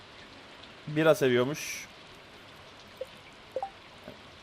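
Steady light rain patters in the background of the Stardew Valley video game while someone speaks briefly, followed by a few faint drip-like ticks.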